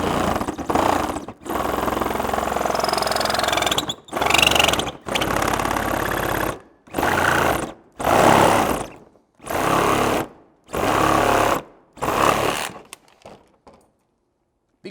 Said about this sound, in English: I am going to finish that little bit off with the Sawzall